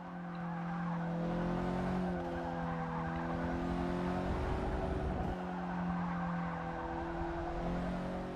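Mercedes A45 hot hatch racing into a corner in Forza Motorsport 6, its engine droning steadily with shifting revs and tires squealing through the bend, close and continuous without talk.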